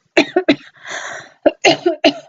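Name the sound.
cough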